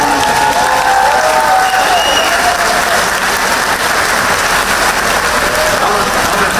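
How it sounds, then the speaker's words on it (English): Applause from a large crowd fills a rally for Vice President Vance in Peachtree City, Georgia, a dense, steady roar of clapping with some cheering, loud and sustained throughout. "Let's give them a big round of applause."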